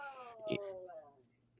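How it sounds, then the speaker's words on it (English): An old cat lets out a short, strange yowl with a wavering, descending tone, fairly faint and heard against quiet background sound. "Did you hear the cat make that weird ass noise?"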